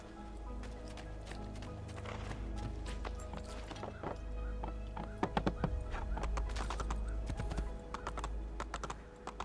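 A horse gallops in Assassin's Creed 2, quick hoofbeats over a low engine-like rumble and game music, the beat sharpening midway, with clicking keyboard-like taps throughout.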